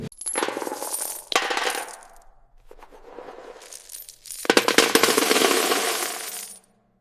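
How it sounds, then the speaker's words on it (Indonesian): Loud cascades of coins clattering into an offering chest, several long jingling pours close up with short gaps between them, then a sudden stop. "Di hadapan peti persembahan, bunyi koin yang keras menarik banyak mata."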